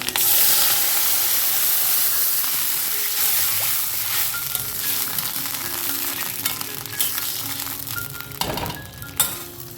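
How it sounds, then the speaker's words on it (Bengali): Water goes into hot oil with crackling mustard seeds and sets off a loud, dense hiss that slowly fades to lighter sizzling and popping over about ten seconds, close up and without speech. "সর্ষেটা যখন ফাটতে শুরু করেছে এই সময় আমি দিয়ে দেবো কিন্তু জল"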